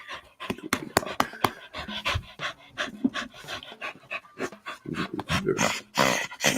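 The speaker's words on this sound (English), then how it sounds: "Goofy dog." A playful, goofy female dog pants heavily at close range in quick, uneven bursts of breath, with small whimpers and snuffles mixed in.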